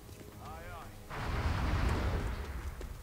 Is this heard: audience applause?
no